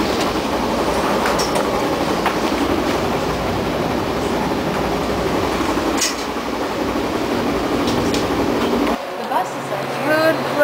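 In Chicago, a double-decker commuter train rolls on with a loud, continuous rumble and clatter heard from on board. Near the end the noise suddenly drops, and faint voices can be heard.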